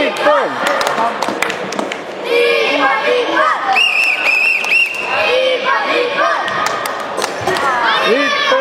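A loud crowd cheers and shouts at a sporting event, with voices overlapping and chanting rhythmically, along with thumps and taps. People are also talking over the noise.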